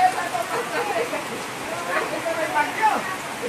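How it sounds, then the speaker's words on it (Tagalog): Heavy rain pouring steadily over a rural home and garden, a broad hiss of drops on surfaces under a person talking nearby. "Lakas sa ulan"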